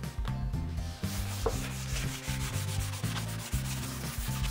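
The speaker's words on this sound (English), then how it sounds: "I'm just going to use a hand pad, so I'm just going to give it a flick down with P240 grit sandpaper." A door being hand sanded with a P240 grit sandpaper pad, a rough rhythmic scraping of back-and-forth strokes repeated steadily at close range, with no talking.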